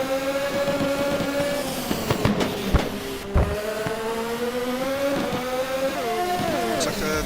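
Race cars in a video game race at Fuji or Las Vegas, their engine whines rising and falling as they shift gears, with several sharp impacts and clatters mixed in, loud and continuous.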